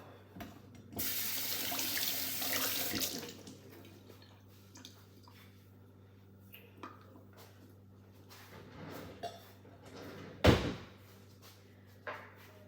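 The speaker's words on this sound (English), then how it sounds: "Rinse that off." Dishes and kitchen knives being rinsed under a running tap while cooking oxtails, a loud rush of water early on, then quieter trickles, clinks and a sharp knock near the end.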